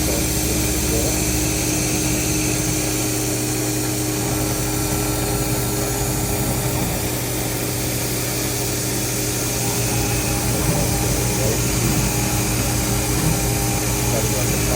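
A home-shop CNC mill cuts aluminum with air blowing and no coolant, producing a steady, close mechanical whine with sustained tones over a constant hiss of air, unbroken for the whole stretch.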